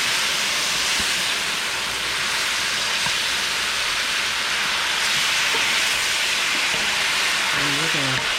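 Sauce of dark soy sauce and mirin simmers in a pan, a steady broad hiss and bubbling that runs throughout at a moderate level, with a few brief voice-like tones near the end.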